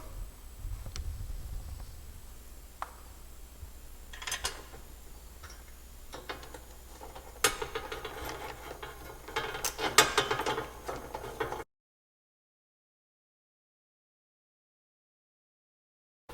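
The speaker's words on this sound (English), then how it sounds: "We're going to put them in with a regular screwdriver." A regular screwdriver drives Loctite-coated mounting bolts for Corbeau SXS Pro seats in a Polaris RZR, giving soft, close ticking and scraping clicks at an irregular pace, then a sudden drop to silence.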